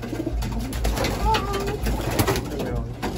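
Racing pigeons coo softly and repeatedly in a new loft, their low rolling calls close by amid rustling and people talking.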